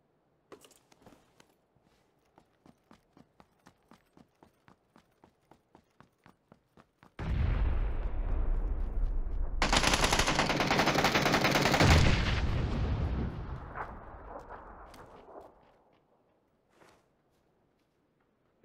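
In PUBG, a quick series of faint single gunshots crackles at a steady rhythm. A sudden loud burst of heavy automatic gunfire and rumbling blasts follows, sustained for several seconds before trailing off into quieter scattered shots.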